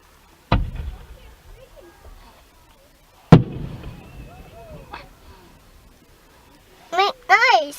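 Canada Day fireworks over Nipawin burst as two sharp, distant booms that ring out and fade, followed by whistling crackles near the end, while people talk and exclaim.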